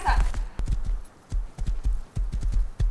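Horse hooves clip-clop in a quick, uneven rhythm as a horse is ridden in a Minecraft-style building game, loud and close, with a short bright sound at the start.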